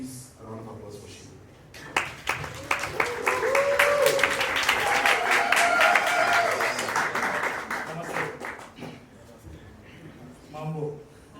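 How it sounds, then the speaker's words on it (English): Audience applause and clapping welcome a speaker to the stage at a zero waste conference panel in Tanzania, swelling over several seconds and then tapering off, with faint voices mixed in. "please a round of applause for Shibu"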